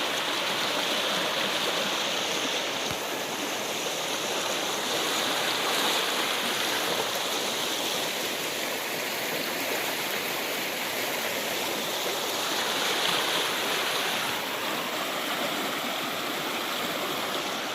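Fast-flowing water rushes continuously, a loud, steady roar of a swollen, flooded creek in West Virginia with no pauses.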